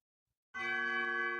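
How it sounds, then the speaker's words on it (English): Bells in the Undertale video game strike suddenly after a moment of silence, then ring out with a loud, sustained, resonant tone that lingers to the end. "Hear the different bells?"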